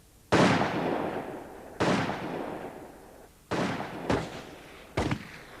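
Rifle volleys ring out at the execution of the Russian royal family, with five loud shots spaced a second or so apart, each one followed by a long echoing decay, and no voices heard.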